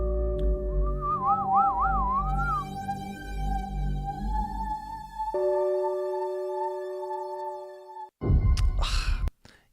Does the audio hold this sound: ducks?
no